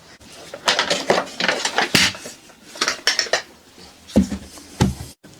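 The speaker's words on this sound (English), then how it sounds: "I need to hold this side with the 22mm spanner, and at the same time I can turn this side with my size 17" Metal spanners clank and ratchet against a nut and bolt on a Honda CB125F rear swing arm, a close run of loud, irregular clinks and scrapes with short pauses and no talk.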